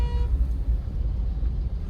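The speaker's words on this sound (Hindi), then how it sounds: "traffic he traffic" Evening rush-hour road traffic after heavy rain, a dense low engine rumble with a short car horn toot at the very start, continuing steadily throughout.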